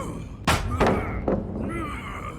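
A Deathslinger pallet stun in Dead by Daylight, heard as a few quick hollow thunks and thuds in a short burst, moderately loud with no talk over it.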